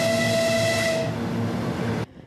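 A new suburban electric train in Primorye sounds its horn, one loud, sustained tonal blast lasting about two seconds before it cuts off abruptly.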